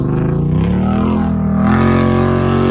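A Honda Pioneer 500 side-by-side pulls away, its engine droning close and loud, with the pitch sliding and then climbing as it accelerates.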